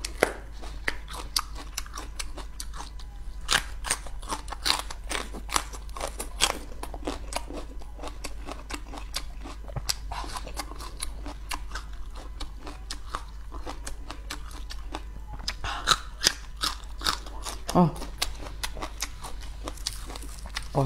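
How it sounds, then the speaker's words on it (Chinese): Dried chili peppers bitten and chewed close up, a run of sharp crisp crunches in an irregular rhythm, loud and dry against a quiet background with no talk. "我特别爱听那个辣椒的嘎嘣脆的声。"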